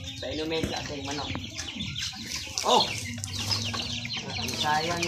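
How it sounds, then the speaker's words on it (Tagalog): Chickens cluck and call around a homemade plastic-bottle waterer, with close, intermittent clucks and a brief flutter of wings as a person talks over them. "Subukan na natin sa inumin sa ating manok."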